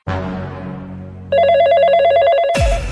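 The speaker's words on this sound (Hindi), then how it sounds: "तभी तुम्हारा फोन बजने लगता है" A phone rings loudly, its warbling electronic ringtone repeating in quick pulses after a sustained tone, then cut off abruptly by a sharp burst of noise.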